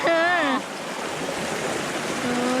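A strongly flowing stream rushes as a steady, loud broadband wash throughout, with a voice speaking over it at the start and again faintly near the end.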